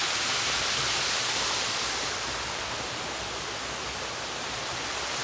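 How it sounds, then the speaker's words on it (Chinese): Water pours steadily at the Rainbow Waterfall in Sanxia, Taiwan, a continuous broadband rush that stays loud and even throughout, with no voices. "这里就是今天帮大家介绍的彩虹瀑布"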